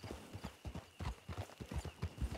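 Horse hooves clip-clopping in Red Dead Redemption II, a steady close trot with regular beats, loud and clear throughout with no talk over it.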